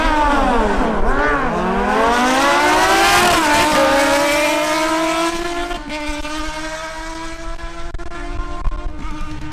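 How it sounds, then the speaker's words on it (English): Kawasaki ZH2 and Suzuki GSX-S750 motorcycles drag racing, engines revving hard through rising gear pulls, loud and close, settling into a sustained high whine as they speed away. "Next, Rodolo on his Kawasaki ZH2 faces Christian Alcala again on his Suzuki GSX-S750."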